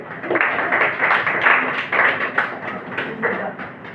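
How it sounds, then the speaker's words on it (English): Classroom applause for a student who won a game, dense steady clapping from many hands filling the room with a few louder bursts, no one speaking over it. "now big clap for Shita because she has won the game"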